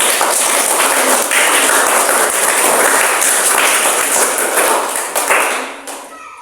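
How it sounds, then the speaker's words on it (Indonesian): Students in a classroom clap for a classmate, a loud, close round of hand clapping that stays even for about five seconds before quickly fading out. "Kita tepuk tangan untuk teman Resti."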